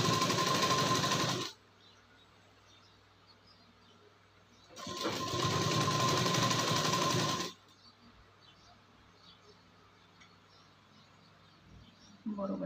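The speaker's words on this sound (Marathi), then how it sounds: "आता बरोबर जो शेप आहे त्या शेप प्रमाणे याला टिप मारून घ्यायची." A sewing machine stitches a prince cut blouse in two loud, close bursts of rapid whirring, separated by a quiet pause, with a brief click at the end.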